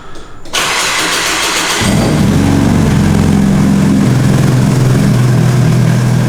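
An Adams 240 car engine with a new turbo cranks and fires up, a brief starter whir quickly giving way to a loud, steady running rumble that continues to the end.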